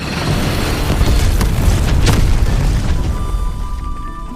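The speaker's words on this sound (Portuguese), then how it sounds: "Ela consegue descarrilar essa locomotiva e destruir na explosão aquele ouro pelo qual tanto lutavam." A derailed locomotive carrying nitroglycerin blows up in an animated superhero Western, a loud, dense roaring blast that rumbles on for several seconds before thinning out.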